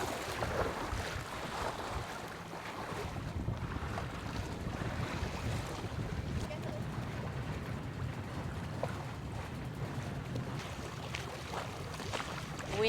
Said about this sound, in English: Wind is going up and down, shifting a little bit, so we are pretty close into the wind.